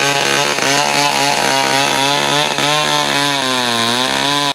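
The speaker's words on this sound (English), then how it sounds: "one can easily hear the sounds of sawing machines in and around the forest of Bayelsa State renting the air" A chainsaw cutting trees in a Bayelsa State forest, its engine droning loud and continuous with a wavering pitch as it works, close and with no voices.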